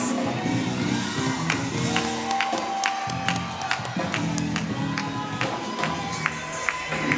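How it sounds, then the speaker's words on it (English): A large crowd claps and cheers steadily at a high school graduation ceremony, with dense applause and scattered shouts filling the space, while music plays underneath. "let's give a round of applause. Put your hands together"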